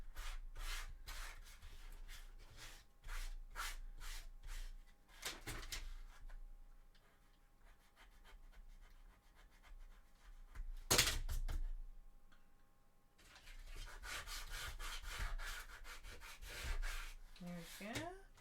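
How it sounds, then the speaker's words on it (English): Sanding a Sisters of Battle cosplay calf armour piece, with rapid rhythmic rubbing strokes in bursts, a quieter pause midway, one sharp loud scrape, then steady close sanding resumes. "Just giving it a quick sand."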